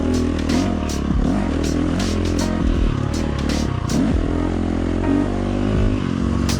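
A motorcycle fitted with a Tokyo Mods Vortex ECU revs hard and repeatedly toward high RPM, a loud, close, continuous engine roar with rising and falling pitch throughout.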